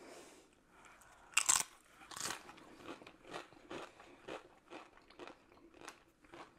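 Doritos tortilla chips scooped through a bacon dip are crunched and chewed close up, a sharp loud bite followed by a steady run of smaller crunchy chews, with no talking.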